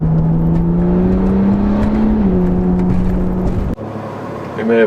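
A 2012 BMW 135i with a DCT gearbox, sticky tires and coilovers, driving with a loud, steady engine drone that climbs slightly in pitch and then drops after a brief gear change, heard from inside the car.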